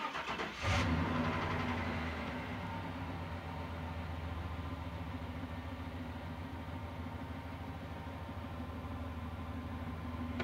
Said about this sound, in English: I'm gonna go ahead and start my truck up